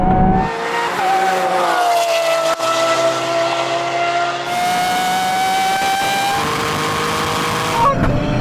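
A Lamborghini Aventador SV drag races a 600 hp Toyota GR Yaris, engines roaring loud and close at full throttle, the pitch climbing through gear changes over about eight seconds.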